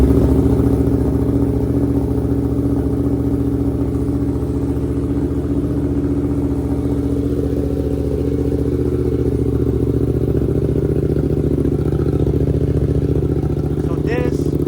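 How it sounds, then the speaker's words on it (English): A Suzuki GSX-8R motorcycle fitted with a Delkevic exhaust, silencer removed, idles loudly and steadily up close, a constant mid-low engine drone with light mechanical clatter throughout. "Let's go ahead and start the bike."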